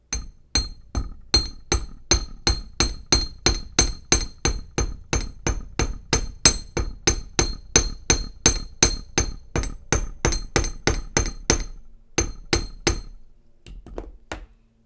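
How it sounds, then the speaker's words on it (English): Hammer strikes on the bare wire edges of a wire-wrapped skeleton key pendant, a long even run of close, sharp metallic taps about twice a second before stopping, then a few last taps. "You'll use very controlled hammer strikes and just hit the edges"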